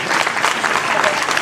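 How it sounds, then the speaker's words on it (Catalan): Audience at a village festival magic and comedy show applauding steadily, a dense wash of many hands clapping at close range throughout the brief moment. "Aplaudiment per la Marta."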